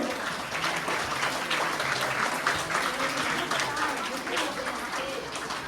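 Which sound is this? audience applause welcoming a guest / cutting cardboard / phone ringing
audience applause welcoming a guest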